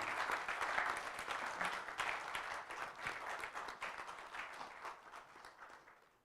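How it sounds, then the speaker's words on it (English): Audience clapping at a fellows onboarding dinner, a dense steady patter of many hands that holds strong for several seconds and then slowly thins out, with no talk over it. "Keep clapping until she sits."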